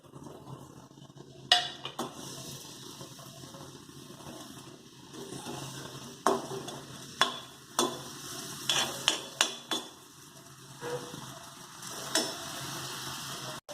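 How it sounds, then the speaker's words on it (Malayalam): Shallots fry in oil for a white bean and papaya curry: a steady sizzle runs throughout, broken by a series of sharp clinks and scrapes from stirring in the pan, with no talking. "ഇത് നമുക്ക് എണ്ണയിൽ മൂപ്പിച്ചെടുക്കാം."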